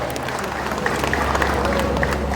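An audience at a political party cadre class event applauds to honor the party's chairman and secretary-general, a steady wash of clapping at moderate volume with some talking and crowd murmur mixed in.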